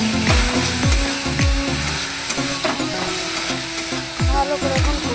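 Fried potatoes are stirred into a spiced masala in a pan for an egg curry, with repeated loud scraping strokes from a spoon over a hissing sizzle, close up and without talk.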